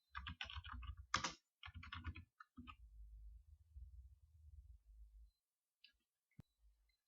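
Bursts of typing on a computer keyboard while searching for a WordPress memory plugin, close and crisp, with quick clustered keystrokes, pauses between runs, and a few isolated clicks near the end.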